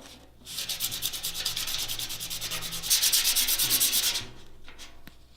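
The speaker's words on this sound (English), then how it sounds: "We're going to use 60 grit sandpaper." Coarse 60 grit sandpaper is rubbed across a metal tank around a crack, a loud, close, rhythmic scraping of rapid back-and-forth strokes that runs for about four seconds before stopping, with no voices.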